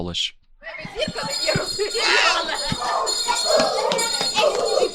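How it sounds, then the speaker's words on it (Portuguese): A hand-rung bell at a Ukrainian school, ringing brightly for a moment at the start to mark the beginning or end of classes, then giving way to children's chatter and laughter as a voice talks over it. "Este é o som da campainha que indica o início e o fim das aulas nesta escola ucraniana."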